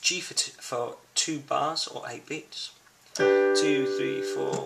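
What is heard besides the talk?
None of the usual background noises is heard.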